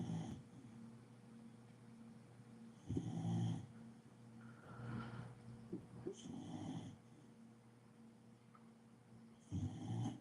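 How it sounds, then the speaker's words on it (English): A dog snoring nearby in a quiet room, with low, rumbling snores repeating roughly every three seconds and fainter breathing in between. "I have to get this damn dog to stop snoring"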